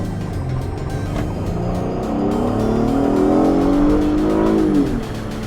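A 2019 Acura TLX A-Spec in sport mode revs high, its engine note climbing steadily in pitch over several seconds before easing off, loud and close with road noise underneath.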